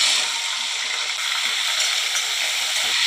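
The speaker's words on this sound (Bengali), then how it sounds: "কড়াই তেলটা গরম হয়ে গেছে, এখন চিংড়ি মাছ দিয়ে এগুলো আমি ছেড়ে দিচ্ছি।" Shrimp dropped into hot oil in a wok crackle into a steady, bright sizzle that holds at an even level for a few seconds, close by, with no talking.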